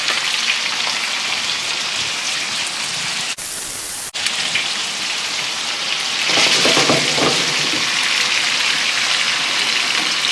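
Prawns fry in a hot pan, a loud, dense crackling sizzle like heavy rain that carries on steadily, broken once by a short cut, then a closer burst of spitting and stirring near the end, with no voices.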